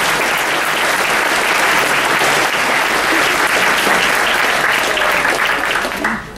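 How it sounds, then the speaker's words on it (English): An audience at a university politics week debate on marriage equality applauds a speaker being introduced, a dense, steady clapping from a full room that runs loud and even before tapering off at the end. "Please give him a warm round of applause."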